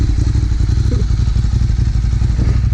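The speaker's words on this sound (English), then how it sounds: "And my buddy's beautiful Ducati." A Ducati motorcycle engine idles loudly nearby with a deep, steady rumble and a faint clattering throb running through the whole clip.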